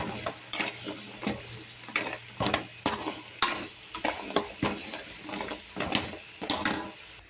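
Madata kaja layered pastry frying in hot oil, with a soft sizzle underneath repeated sharp scraping and clattering strokes of a utensil stirring in the pan.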